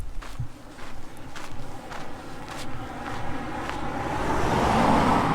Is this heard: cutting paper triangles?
no